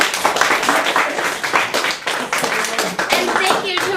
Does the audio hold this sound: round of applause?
yes